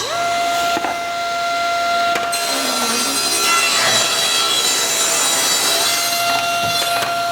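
Power saw cutting a wood board to trim off a bad edge, with a steady high whine and a continuous rasping cut held for several seconds, loud and close.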